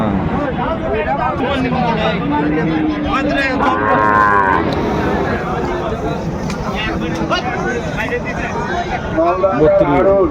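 Shahiwal bulls and other cattle moo at a crowded livestock market, a loud drawn-out call near the middle amid constant crowd chatter and people talking nearby.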